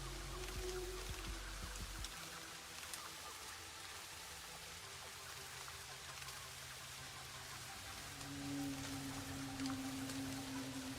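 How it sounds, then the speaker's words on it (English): Steady rain falls in the video game Satisfactory, a soft continuous hiss of drops with faint low rumbles beneath, unbroken and fairly quiet throughout. "I hear the rain. The rain. How awesome is the rain?"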